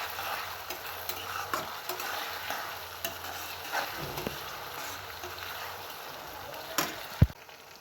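Chopped garlic and onion sizzle softly in a hot pan while being stirred, with scattered scraping ticks and a sharper clack near the end, fairly quiet and steady throughout with no talking.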